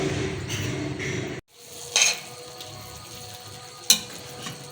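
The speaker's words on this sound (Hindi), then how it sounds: "ये देखो भुन रहा है, तेल निकलना शुरू हो गया कीमे का" Minced meat (keema) frying in oil gives a steady close sizzle that cuts off abruptly, followed by quieter background hiss and two short sharp clinks.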